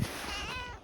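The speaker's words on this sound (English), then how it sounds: "And then I got a cat down here meowing at me." A cat in a barn gives a single drawn-out meow that rises and wavers, fairly faint and close against a low background hum.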